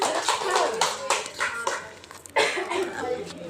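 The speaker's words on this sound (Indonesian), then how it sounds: "tepuk tangan" A group of mothers claps at a teachers' training session after a classroom simulation, giving several loud bursts of applause with a brief dip partway through and voices mixed in.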